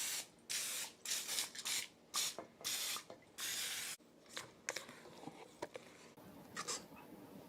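Cooking spray hisses onto muffin tins in a series of short bursts, roughly a dozen quick sprays with brief gaps between them, close and fairly quiet, followed by a few softer, scattered spurts.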